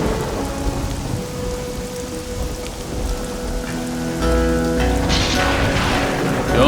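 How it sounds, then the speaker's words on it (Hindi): Heavy rain pours steadily and loudly, a dense hiss of drops on surfaces that thickens toward the end, with a low rumble like distant thunder underneath; no voices. "इतनी बारिश हो रही है"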